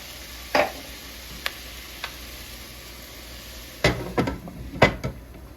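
A spoon stirs loaded cabbage soup in a pot, giving a few short scraping knocks against the pot over a low steady simmer, close and moderately loud.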